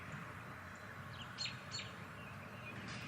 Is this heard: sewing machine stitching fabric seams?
no